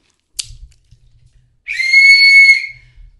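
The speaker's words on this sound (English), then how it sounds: "And then you have your plastic whistle." A single loud, shrill plastic whistle blast lasting about a second, with a slightly breathy, warm tone, preceded by a faint click and quiet handling noise.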